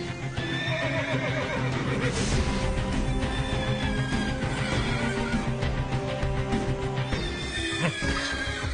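An agitated horse neighs and whinnies loudly and repeatedly over a busy bed of hoof clip-clops, close and continuous with no pauses.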